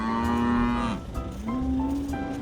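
Several cattle on a farm at Christmas moo in long, loud, drawn-out calls close by, one low sustained moo sliding down before another rises and holds, with no talk.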